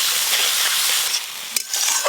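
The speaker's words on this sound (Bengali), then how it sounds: "এবার আমি কচুর ওপরে সর্ষে বাটা দিয়ে বেশ কিছুক্ষণ ভালো করে কষে নেব।" Taro chunks frying in mustard paste with salt and a little water while being stirred, a steady close hiss and sizzle with brief scraping stir sounds.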